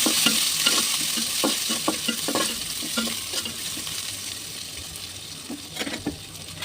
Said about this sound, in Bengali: এখন দিয়ে দেবো পেঁয়াজ। এগুলো আমি লেড়ে ছেড়ে একটু বেঁধে নেব।